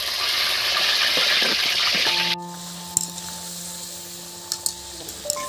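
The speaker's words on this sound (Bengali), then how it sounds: "বন্ধুরা এই তেলের মধ্যে আমি আলুগুলো ভেজে নেব।" Potatoes frying in oil, a dense, steady sizzle that cuts off abruptly partway through, followed by quieter clinks and a faint hum.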